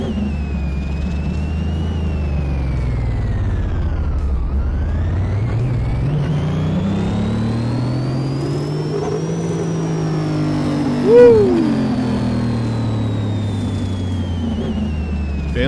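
Hot Wheels Twin Mill engine revving hard in Car Mechanic Simulator 2018, a loud steady roar whose pitch sweeps down, climbs slowly and falls again, with a short sharp spike near the end.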